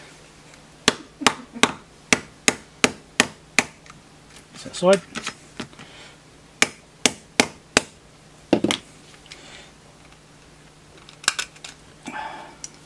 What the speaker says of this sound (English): smack it with a hammer